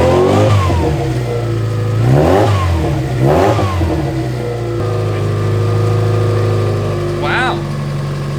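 Turbocharged Mazda Miata engine revving in a garage, rising and falling several times, then settling to a steady idle, loud and close, with a voice speaking briefly over it.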